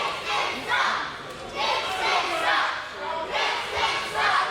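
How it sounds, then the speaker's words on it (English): Wrestling crowd at a Ken Dixon versus Colby Corino two-out-of-three-falls match jeering and shouting back at Dixon in swelling waves, loud and reverberant in the arena. "you can hear the crowd returning the favor, if you will, telling them exactly how they feel"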